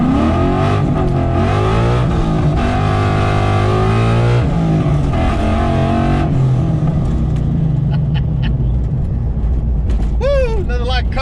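A Coyote-swapped Ford accelerates hard on a country road, its V8 engine loud and close with rising, shifting revs throughout, ending in a brief whistle-like squeal.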